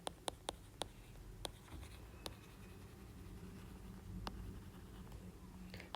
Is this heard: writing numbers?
yes